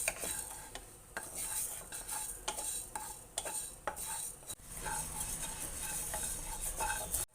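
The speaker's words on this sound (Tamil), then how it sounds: "இப்போ பாசிப்பருப்பை போட்டு நம்ம வறுத்துக்கலாம். தீயாமல் வறுத்துக்குங்க பாசிப்பருப்பை." Moong dal dry-roasts in a dry pan for coconut thiratti pal, with a ladle repeatedly stirring and scraping the lentils in rhythmic strokes, faint and close with a light background hiss.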